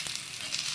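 Fish pieces laid over curry leaves frying in hot oil, giving a soft, continuous sizzle and hiss heard close up for a brief moment.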